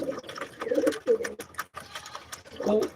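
Giribaz pigeons at a Rajshahi loft give short, close throaty coos in uneven bursts, broken by light clicks and shuffling sounds.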